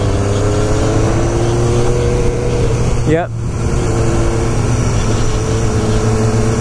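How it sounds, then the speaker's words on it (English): A BMW S1000RR motorcycle's exhaust drones loudly and steadily close by, with a quick rising-and-falling rev sweep in the middle, while people talk over the engine noise. "when you let go of the exhaust, you have that over rev"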